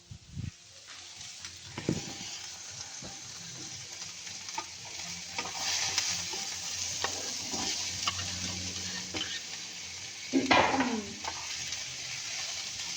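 Leftover chips frying in butter in a pan, a soft continuous sizzle with scattered clinks and scrapes of stirring, a louder clatter near the end, close by with no voices.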